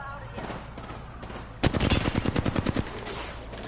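Gunfire in the Apex Legends video game: a loud, rapid burst of automatic shots erupts partway through and rattles on for about a second before stopping, over a quieter game background.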